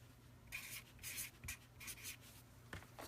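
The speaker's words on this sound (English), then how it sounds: "I'm writing the hostess code." A pen writes a code by hand in short scratchy bursts of strokes, close and fairly quiet, with brief pauses between the strokes and no talking.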